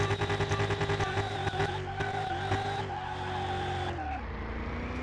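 A tuned drag car in the Car Mechanic Simulator 2021 video game skids on the handbrake, a loud sustained tire squeal over a steady engine drone that lasts several seconds before the engine note drops.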